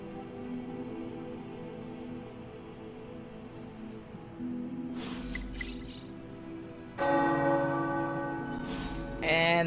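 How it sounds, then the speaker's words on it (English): Tower bells ringing in Marvel's Midnight Suns, loud resonant strikes that begin midway and then swell, layered over a soft rainy background hiss with no talk. "The tower bells are ringing."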